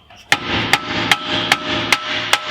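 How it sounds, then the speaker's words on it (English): Six sharp hammer blows on a car's brake parts ring out at an even, steady rhythm, each a bright metallic clang with a short ringing decay, close and alone. "You get the old hammer."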